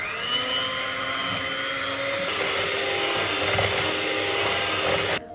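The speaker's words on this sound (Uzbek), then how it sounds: "Buning uchun 3 ta tuxumni ustiga shakarni solib, yaxshilab oppoq bo'lguncha mikser qilamiz." An electric mixer beating three eggs with sugar until pale: a continuous high whirring motor drone that shifts pitch slightly as it works, then cuts off abruptly at the end, with no voices.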